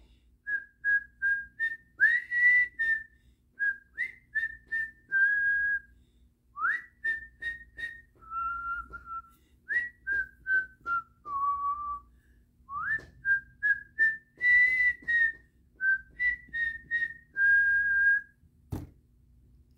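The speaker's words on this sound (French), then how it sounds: "On va siffler au clair de la lune." A small group whistles the French children's tune Au clair de la lune, a clear melodic line of short sustained notes with brief gaps between phrases, close and fairly soft.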